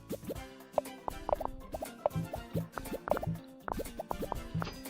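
Bubbles pop out in Game Dev Tycoon as a quick run of soft, watery plops and drips, irregularly spaced and fairly quiet, with no talking.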